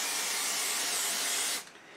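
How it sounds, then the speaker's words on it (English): Aerosol spray adhesive hisses steadily onto sewing wadding for a trolley handle cover. One loud, close, continuous burst lasts about one and a half seconds, then cuts off abruptly into quiet. "And you're always going to spray your wadding"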